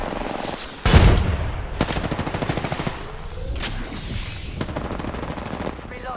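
Gunfire in the video game Apex Legends: a loud burst opens, followed by rapid repeated automatic shots that continue steadily throughout at a near distance, with game effects in the background.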